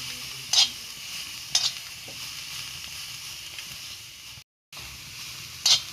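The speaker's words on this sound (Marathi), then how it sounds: "आता मस्त कांदे भाजून घेते।" Soft continuous sizzle of onions frying on an outdoor wood-fired clay stove, with a few sharp scraping stirs of a utensil against the pan.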